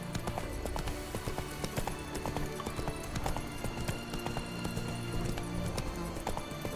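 Roach, a horse in the video game Witcher 3, gallops with rapid, rhythmic hoof clip-clops that continue steadily, close and moderately loud, with faint game ambience behind.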